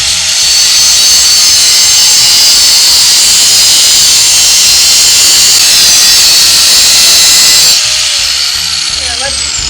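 A power cutting tool slices a piece off a Lincoln fuel filler neck elbow, producing a loud, sustained high whine for nearly eight seconds before it cuts out and winds down.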